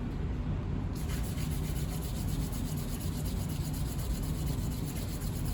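Sandpaper is rubbed by hand over small metal rivet samples in a continuous, loud, close scraping, with even back-and-forth friction and no pauses or voices.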